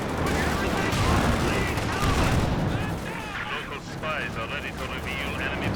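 ZiS-3 artillery barrage in the Company of Heroes 2 game, a rapid cluster of booming shell impacts and explosions layered with battle noise, with someone commentating over the din throughout.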